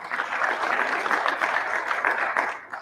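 Convention audience applauding, a dense, steady wash of many hands clapping at moderate loudness for the whole stretch, with no voices over it.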